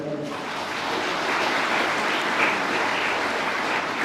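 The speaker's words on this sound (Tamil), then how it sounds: "ஸோ அதுக்கு ஒரு பலத்தை கைத்தட்டல்." An audience at a college gathering claps, a dense, even wash of applause that swells slightly and carries on for several seconds.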